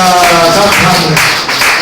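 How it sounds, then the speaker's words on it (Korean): A church congregation at an Easter service for elderly members claps to welcome a deacon, a few rhythmic claps starting under a voice speaking at the outset. "우리 이석근 집사님 박수로 환영하겠습니다"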